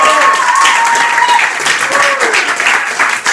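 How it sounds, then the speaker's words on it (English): An audience applauds at a WestFest Lit! literary performance evening, a dense round of clapping with a voice talking over it. "Let's give everybody a round of applause."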